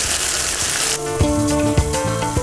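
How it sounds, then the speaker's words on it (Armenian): Bread slices frying in a hot pan, a loud, steady sizzle with crackling pops close by, while music plays over it. "Տապակում եմ նաև հացը։"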